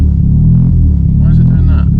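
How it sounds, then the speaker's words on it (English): A crashed Audi S1 engine revs on its own, a loud, close, low rumbling drone that rises and falls unevenly, with a voice speaking over it. "It's revving of its own accord."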